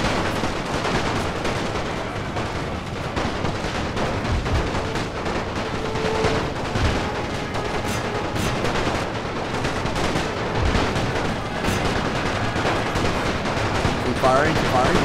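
Rifle and machine-gun fire from a World War One battle in The Great War mod, dense overlapping volleys and rapid bursts crackling continuously, loud and close, with a voice speaking over the fighting.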